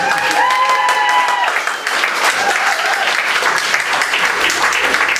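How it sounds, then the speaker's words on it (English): Loud, dense audience applause fills a comedy-club room for a volunteer brought on stage, steady clapping throughout with a few whistles or tonal cheers early on and brief voices mixed in. "A round of applause for Chad."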